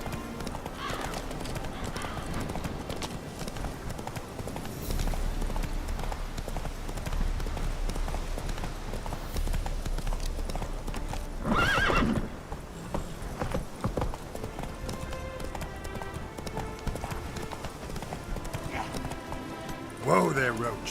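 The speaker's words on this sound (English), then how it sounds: "Whoa there, Roach." A horse gallops in the video game Witcher 3, with steady clip-clop hoofbeats under game sound and speech, and whinnies rising near the middle and again at the end.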